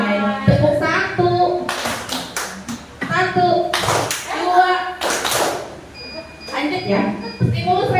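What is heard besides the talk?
group clapping on count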